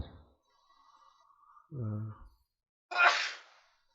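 A short breath and a brief vocal murmur, followed by one sharp, loud sneeze close to the listener, then silence.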